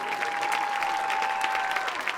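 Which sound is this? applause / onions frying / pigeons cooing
applause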